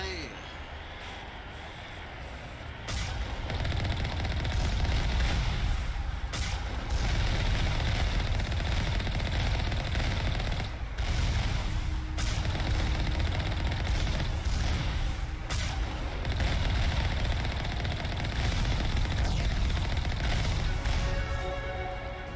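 Rapid turret gunfire during an asteroid-base battle in a sci-fi video game: sustained loud bursts of automatic shots over an engine-like rumble, with a few sharp cracks and a quieter opening stretch.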